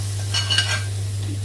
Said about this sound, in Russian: Картошечка уже сварилась, поэтому зажарочку мы сразу высыпаем